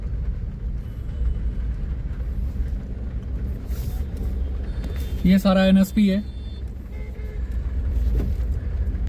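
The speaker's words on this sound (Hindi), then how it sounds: "जैसे मैं पुल से नीचे उतरा तो थोड़ा सा ट्रैफिक है यहाँ पर" Road traffic in Rohini, Delhi, in light rain heard from inside a car as a constant low engine and road rumble, with a brief horn-like tone midway and someone talking.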